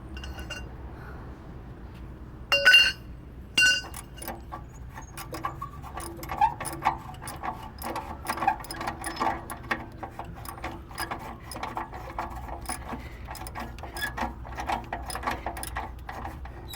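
Metal clinks and ratcheting clicks from a socket and pry bar working loose the upstream oxygen sensor on a 2007-2013 Nissan Altima, with two sharp bangs early on and then a steady run of small tool taps and scrapes.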